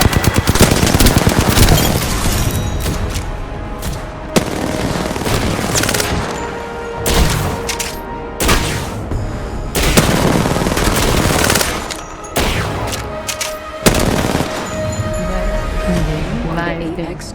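Gunfire in the video game Apex Legends: loud rapid automatic bursts and repeated single shots in clusters separated by brief pauses, with a voice speaking over the action.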